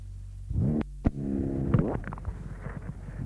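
A 250cc Jawa two-stroke motorcycle at a 1965 hillclimb in Huntly, New Zealand, revs with climbing pitch, then settles into a steady, rasping engine drone close by.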